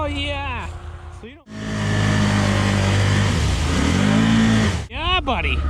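An off-road machine on new 32-inch Terache Aztex XL tires revs hard through mud, a loud sustained engine roar lasting several seconds, with someone talking excitedly before and after it.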